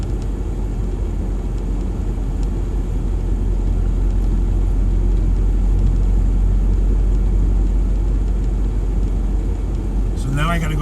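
A car drives on a snowy road during a blizzard, a steady loud engine and road rumble filling the cabin throughout, with a brief higher squeak near the end.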